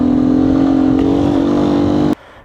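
A 2019 Beta 125 RR S motorcycle engine revs loudly and steadily up close with a buzzing tone, then cuts abruptly to a quiet idle near the end.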